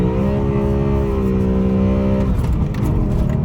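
A BMW 1M Coupe swapped with an S65 V8 holds a loud, steady high-RPM tone close by. The revs then drop off sharply near the end.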